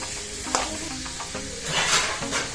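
Chopped carrot, cauliflower and onion sizzle steadily in a hot pan as a spoon stirs them, with a few scraping knocks against the metal over the constant close hiss.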